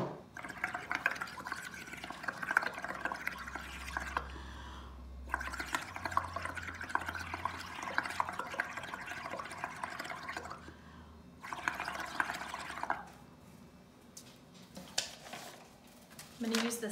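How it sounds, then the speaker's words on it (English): Bubbles blown through a straw into a cup of purple paint for bubble prints, three bursts of close, gurgling, bubbling noise separated by pauses, with someone talking between them. "Blow the bubbles."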